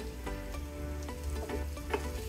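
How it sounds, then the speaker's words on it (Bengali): Pointed gourd (potol) frying in a pan, a steady close sizzle with soft stirring taps and scrapes rising through it. "2 মিনিটের মতো ভাজবো পটল দিয়ে"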